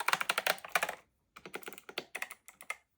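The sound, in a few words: typing on 8BitDo Retro Mechanical Keyboard, clicky keys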